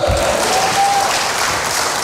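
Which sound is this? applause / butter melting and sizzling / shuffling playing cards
applause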